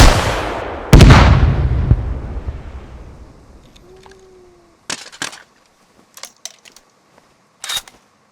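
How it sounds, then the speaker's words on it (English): A rocket launcher with backblast fires in Squad: a heavy booming blast with a second sharp crack, then a long rumbling decay, followed by scattered faint clicks and handling noises. "The launcher also fires a deadly backblast, so make sure your rear is clear before firing"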